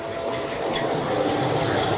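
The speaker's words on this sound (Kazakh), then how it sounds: "Суымыз қайнады." A pot of water comes to a rolling boil for pasta on a kitchen stove, a dense, even bubbling roar that holds steady and close for two seconds without any voices.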